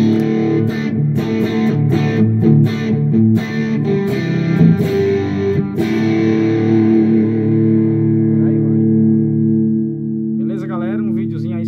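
Electric guitar played through M-Vave Mini Universe reverb and Caline Pure Sky pedals, sustained distorted chords ringing with reverb, then a quieter shimmering tail, loud and close.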